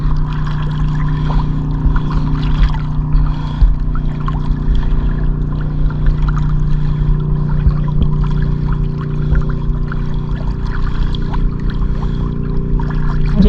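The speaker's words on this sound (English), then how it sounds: "We can see some bigger waves over there." Waves wash on a deep lake beside a stone wall, a steady, loud, close churning of water that runs without a break and with no voices.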